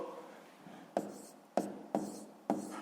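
Pen on paper during a math exercise, four distinct taps and short scratches at an uneven pace over a faint quiet background.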